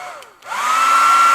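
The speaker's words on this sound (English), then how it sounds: "So I'm going to run the hair dryer again." A hair dryer switches on and runs steadily with a loud, even whine, used to dry acrylic paint during a painting session.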